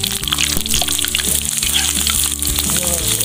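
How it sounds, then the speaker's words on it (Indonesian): Kerupuk crackers fry in hot oil for soto Betawi, a loud continuous sizzle and crackle close up, with a steady hum beneath it. "Kita goreng kerupuk ya."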